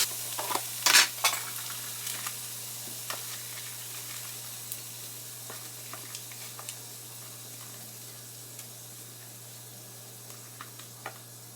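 Rice cooking on a stovetop, with a loud hiss or splash at the start followed by quiet sizzling and scattered light stirring clicks over a low steady hum.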